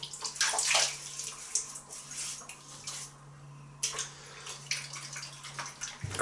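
Water running and splashing at a sink while a face is wetted before a shave, close splashy bursts that come and go with the hands, over a low steady hum.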